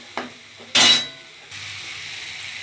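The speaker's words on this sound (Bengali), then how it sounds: "এবার তো আমি ভালোভাবে মশলাটা দিয়ে কষিয়ে নেব।" Ground masala spices, moistened with a little water, fry in hot oil for a matar paneer curry. A couple of utensil clinks and a scrape lead into a steady, close sizzle.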